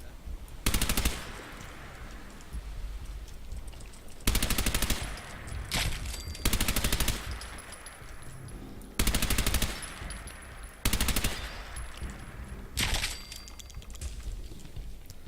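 Bursts of automatic gunfire from the video game Fallout 4 come in five or six loud, sharp volleys spaced a few seconds apart, with quieter game ambience between them.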